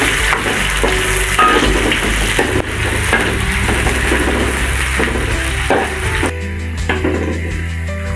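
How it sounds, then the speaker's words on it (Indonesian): Chopped shallots and garlic frying in hot oil in a pan, a loud continuous sizzle with occasional clinks and scrapes of stirring, then a brief drop in intensity near the end. "Terus kita masukin bawang merahnya dulu sama bawang putih, kita goreng."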